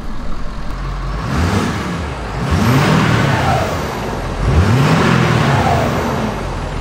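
A 6.7 Powerstroke diesel engine in a Ford F250 truck revs up and down in several swells, close and loud, with a whirring tone rising and falling between each push of the throttle.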